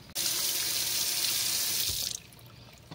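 Cold water runs hard from a tap into a sink, starting abruptly with a loud, steady hiss and splash, then cutting off after about two seconds, leaving faint drips.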